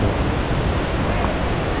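Waterfall above a swimming spot in Luang Prabang, Laos, giving a steady, dense broadband roar of falling water that stays even and continuous throughout.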